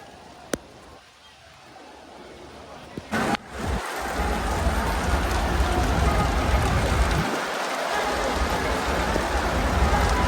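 Heavy rain falling hard, a dense steady roar that swells after a few seconds of quieter patter and holds loud to the end, with brief talk early on.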